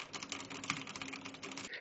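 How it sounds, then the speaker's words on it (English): Rapid, steady computer-keyboard typing clatters in the background, picked up through the microphone of Apple AirPods Max headphones, a quiet stream of close, overlapping key clicks with no one speaking. "typing going on in the background"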